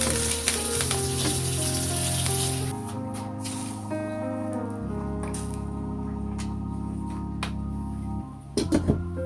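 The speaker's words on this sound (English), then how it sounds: "I gotta get my pot boiling." A pot of seafood boil broth for king crab and snow crab hisses and sizzles steadily up close, a continuous bubbling roar with faint clinks near the end and no talking.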